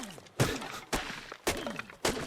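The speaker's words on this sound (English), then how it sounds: "get this tree chopped out of the way" A tree is chopped in ARK Survival Evolved on The Island map, four sharp wooden thunks landing at an even, roughly half-second rhythm, fairly quiet and with no talk.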